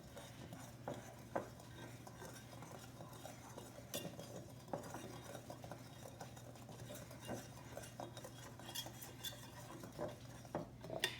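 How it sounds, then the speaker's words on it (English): Sugar, salt and baking powder whisked with dry wheat flour in a bowl, quiet repeated scraping and light clinks of the whisk against the bowl, soft and close with a faint background hum. "I'm going to whisk this."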